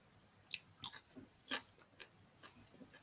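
A pet named Charlie crunchily chewing pods, giving a few sharp, close crunching bites in quick succession, then softer chewing that fades off.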